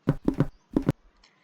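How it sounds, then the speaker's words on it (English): In the video game Hello Neighbor, a character's footsteps land in three distinct, close steps, with a dull thud and light tap to each, separated by brief pauses and ending in a faint click. "that's the footstep noises"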